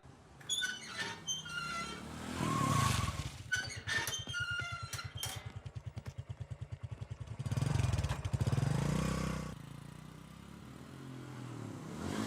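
A car engine revving and pulling away on a village road, a loud throbbing pulse in the middle that swells again near the end before fading, with a voice briefly over the start.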